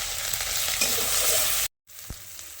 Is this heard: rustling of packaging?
no